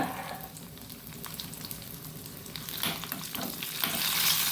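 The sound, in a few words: garlic and mustard seeds frying in oil for sambar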